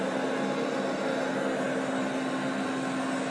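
An Ultenic D5s Pro robot vacuum cleaner runs on a floor with a steady, continuous whirring hum and a constant tonal drone, loud and unbroken throughout.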